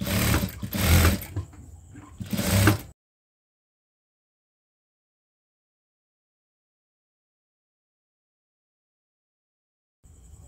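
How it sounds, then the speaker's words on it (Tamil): Sewing machine stitching a lehenga blouse, a loud close mechanical run of about three seconds, then near silence with a brief restart at the very end. "இப்போ இதை அப்படியே மேலே வச்சு படிமான தையல் போடணும்."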